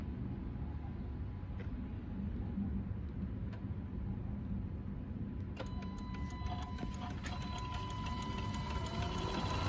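A radiator cooling fan spins on a 2015 Jeep Cherokee KL being troubleshot for a fan circuit fault, giving a steady, low whirring drone with faint clicks and a slightly brighter hum in the second half.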